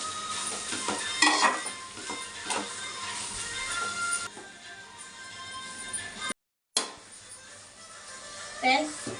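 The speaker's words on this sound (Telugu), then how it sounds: "దొండకాయ ఫ్రై వేరుశనగలు నువ్వులు వేసి చేశాను" Ivy gourd (dondakay) pieces fry with peanuts and sesame seeds in a pan, giving a steady sizzle with stirring scrapes and clinks over it. The sound cuts out briefly near the end, and a voice talks over parts of it.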